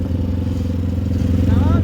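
A convoy of motorcycles moving through the city of Cochabamba during protest blockades gives a steady, loud engine drone, with a voice rising briefly near the end.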